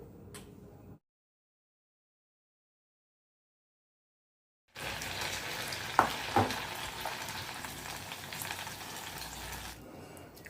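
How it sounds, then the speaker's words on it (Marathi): Sabudana and potato pakodas frying in hot oil in a kadhai, a loud steady crackling sizzle with a few sharp pops, cut off by a gap of silence before resuming. "कढईमध्ये पकोडे टाकताना थोडे दूर दूर टाकायचे"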